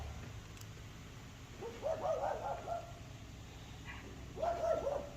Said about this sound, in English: Goofy dog's barking.